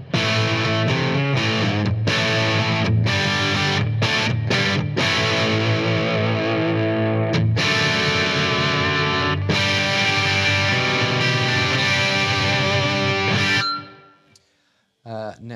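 Electric guitar on the humbucker pickup through a Blackstar AMPED floorboard amp on the UK setting: dense overdriven chords and riffs played close and loud for about fourteen seconds, with brief pauses, then ringing out to near silence.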